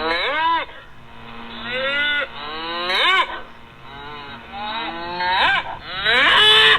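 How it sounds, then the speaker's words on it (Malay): A cow mooing sound effect from the InShot video editing app's sound library, with several loud, drawn-out moos one after another, close and prominent with nothing else over them. "ini bunyi lembu dia cakap."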